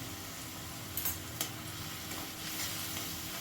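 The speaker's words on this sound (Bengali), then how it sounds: "প্রায় মিনিট খানেক ধরে আমি এই মশলাটাকে ভালো করে নাড়াচাড়া করে কষিয়ে নেব" Spice masala with a little sugar sizzles in a pan for Bengali papad dalna while a utensil stirs it, giving a steady close frying hiss with a couple of sharp scraping clicks.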